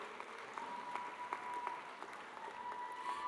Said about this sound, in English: let's give a big round of applause, Lenny Montague.